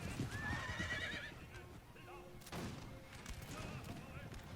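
Enemy horse guards charge in the Napoleon Total War battle game, with a horse whinnying clearly near the start, hooves clattering, and distant gunfire over a low battle din.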